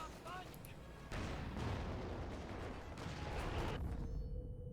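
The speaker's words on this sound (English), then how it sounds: "Ooh, good hit by the Sturmtiger." A Sturmtiger shell lands in Company of Heroes 2 with a heavy, rumbling boom and a dense blast of noise that keeps going for several seconds, then ends abruptly, with faint chirps near the start.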